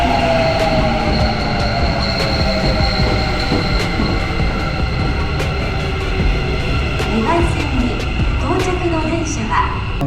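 Steady rumble and rattle of a moving train from inside the carriage, with metallic wheel squeals and hum throughout, riding the last train of the night toward Matsuda in Japan.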